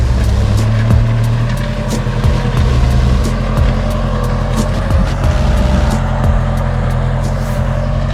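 A Kubota L47 tractor with widened wheel track drones loudly and steadily up close while pulling a 26-inch disc plough through field ground, its engine note wavering slightly under load.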